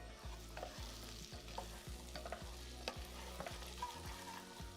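Pistachios brown in butter in a pan, a quiet steady sizzle broken by repeated rhythmic scrapes and knocks of a spoon stirring, with no voices.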